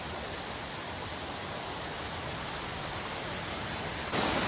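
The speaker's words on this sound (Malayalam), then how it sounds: "ഇവിടെ നല്ല മനോഹരമായൊരു വെള്ളച്ചാട്ടമുണ്ട്." A small waterfall at Thommankuthu in the forest flows into a river, making a steady, dense rush of water that fills the clip, alone and fairly close.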